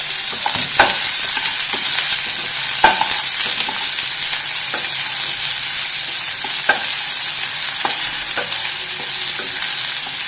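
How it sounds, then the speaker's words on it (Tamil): Chopped onions sautéing in a pan with a loud, steady sizzle throughout, broken by periodic scraping clicks from a spatula stirring close by. "வெங்காயத்தை வந்து சின்ன போட்டுட்டு வந்து வதக்கணும்"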